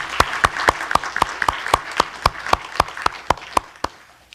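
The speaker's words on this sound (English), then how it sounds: "with a show of applause" Sparse applause at an honors program lecture, a small group of hands clapping in a slow, evenly spaced rhythm of about fifteen sharp claps, fairly close and without talk.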